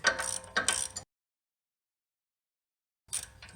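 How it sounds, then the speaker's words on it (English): A 21mm socket wrench loosens caliper bracket bolts during a Dynatrac ProGrip front brake install, giving two close bursts of ratcheting and metallic clicking, then a long silence and a final burst of ratchet noise. "Need a 21mm to remove caliper bracket."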